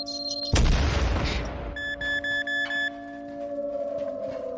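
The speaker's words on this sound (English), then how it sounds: "Destroy the signal jammer." A loud boom bursts out as a signal jammer is destroyed in a video game, followed by a brief rumbling decay, then a run of pulsing electronic beeps and a steady hum.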